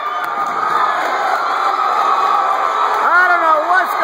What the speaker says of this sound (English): This crowd is on their feet.